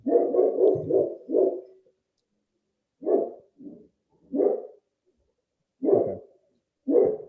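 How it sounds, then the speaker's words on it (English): A dog barks in a rapid burst of about five barks near the start, then gives single barks and short doubles spaced apart with quiet gaps between them, fairly close and alone with no talking. "excuse my dog barking in the background"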